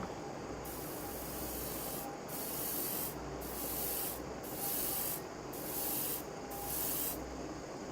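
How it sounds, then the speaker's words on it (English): Short light bursts from a paint spray can or airbrush on a Bf109K-4 scale model aircraft, several hissing sprays in an even rhythm with brief pauses, close and steady. "Just some light sprays."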